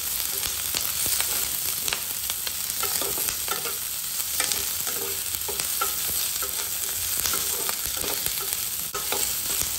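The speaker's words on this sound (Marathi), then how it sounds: "कंटिन्यू जसं 2 मिनिट हलवत राहायचं जेणेकरून एकासाठी हे चिटकून ते करपलं नाही पाहिजे।" Capsicum and onion fry in a pan while being stirred continuously, a dense steady sizzle broken by frequent scraping stirs, close and loud with no talking.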